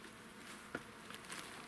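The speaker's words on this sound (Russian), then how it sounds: "Вот они тут такие пчелки летают." Honeybees fly around a late-season nucleus hive, giving a faint, steady buzzing with a few soft taps and flybys nearby. No one speaks.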